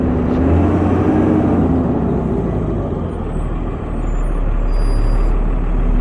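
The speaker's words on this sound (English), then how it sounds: "Apparently the brakes are squealing." A loud, continuous Freightliner truck rumble with a high brake squeal running through it, steady for several seconds with no voices.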